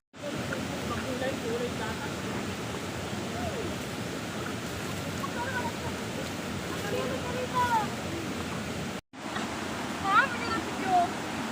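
Steady, strong rush of a creek's flowing water fills the whole stretch, broad and continuous, with a brief cut near the end before the rushing resumes.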